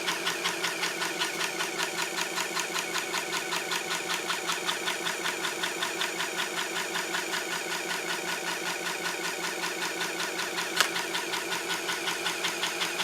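An Epson HX-20 portable computer's built-in dot-matrix printer runs nonstop, its print head rattling in a rapid mechanical buzz with evenly spaced pulses, near and steady, with one brief click near the end.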